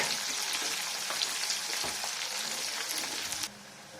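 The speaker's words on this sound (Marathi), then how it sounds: "कट करून घेतलेला कांदा कट केलेल्या हिरव्या मिरच्या छान बदामी कलरला येईपर्यंत तळून घेऊया" Chopped onion and green chillies fry in oil as the tempering for a soya paneer pulao. A close, steady crackling sizzle carries light stirring scrapes, then drops suddenly to a softer hiss near the end.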